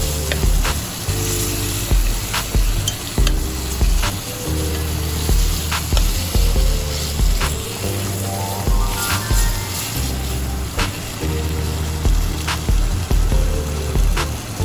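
Steady sizzling and crackling of ground garlic and shallot paste frying in a hot pan, with intermittent clinks and scraping throughout.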